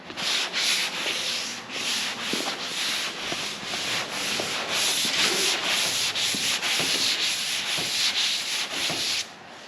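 Sandpaper of 320 grit rubs back and forth across a surface in a crosshatch pattern, giving a close, steady run of rasping strokes with brief gaps between them. It plays alone with no talking.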